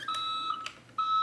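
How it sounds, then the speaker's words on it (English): A toy garbage truck beeps as it reverses, sounding two steady electronic tones with a short break between them, close and clear over a quiet background. "you hear the beeping sound that it makes."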